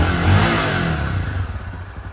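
A new Honda Tornado XR 300L motorcycle engine running with its air filter removed gives a steady, loud, close rumbling idle with a rough, clattering intake texture throughout.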